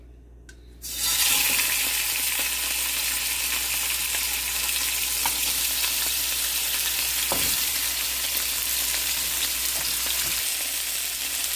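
After a quiet start, marinated ribs hit extra virgin olive oil in a pot and break into a loud, steady sizzle that holds evenly, with a few faint utensil knocks.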